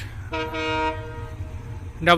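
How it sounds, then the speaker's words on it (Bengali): A Rupsa Express passenger train horn blows in two long, loud, steady tones, with a brief third blast starting at the end over low rumbling background noise, as the train enters Parbatipur station, Bangladesh. "হর্ন শুনতে পেলেন খুলনা থেকে ছেড়ে আসা চিলাডি অভিমুখী রূপসা এক্সপ্রেস সবে মাত্র পার্বতীপুরুষে প্রবেশ করছে"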